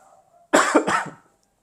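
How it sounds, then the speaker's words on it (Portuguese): A single close cough, a short harsh burst with a second rough pulse, heard alone in a quiet room. "Tá chegando a tosse."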